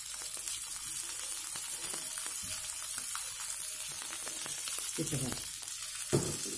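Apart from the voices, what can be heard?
fish frying in a pan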